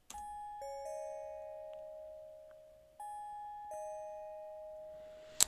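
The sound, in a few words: wavetable bell synth from Expand plugin in FL Studio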